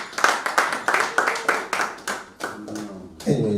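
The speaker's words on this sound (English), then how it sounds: "Applause for yourselves" Conference audience at a storytelling event clapping in a brisk, fairly close burst of individual handclaps that thins out toward the end, with a voice briefly speaking over it.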